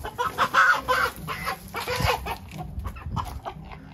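Chickens cluck and squawk in agitation while someone tries to catch them on a farm, the calls loud and close in irregular bursts.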